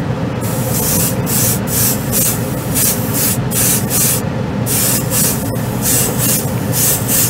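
White paint sprayed onto a scale model in bursts, a close, hissing aerosol spray that pulses on and off steadily with short gaps, loud and alone.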